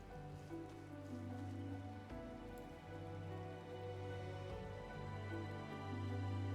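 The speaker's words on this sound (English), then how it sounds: "Man, so much rain." Steady rain falls in Final Fantasy XIV, a soft continuous patter on surfaces under a quiet, sustained game background hum, with no talking.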